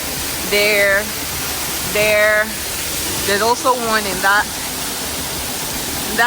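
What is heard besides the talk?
hot spring water shooting and dripping inside a cave, Arenal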